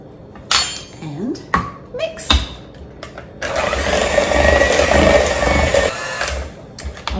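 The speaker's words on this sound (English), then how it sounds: "let me clean off my beaters" Mixer beaters being cleaned while making blueberry cheesecake dough: a few sharp metallic clinks and taps, then several seconds of steady whirring from the electric mixer running, close by.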